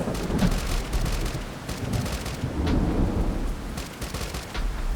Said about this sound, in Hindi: दोपहर में अचानक तेज बारिश गिरने लगी